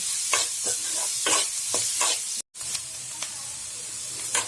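Curry leaves and tomato frying in a hot pan, with a bright continuous sizzle and regular stirring scrapes, close, broken by one brief dropout.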